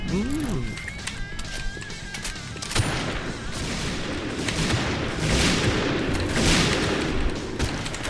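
Gunfire in a Point Blank shooter game, with rapid bursts of shots and booms under continuous excited commentary from a player.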